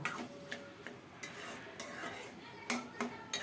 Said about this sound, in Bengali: চাউলের গুঁড়ো দিয়ে সাথে সাথে নেড়ে চেড়ে সুন্দর মতো মিশিয়ে নেব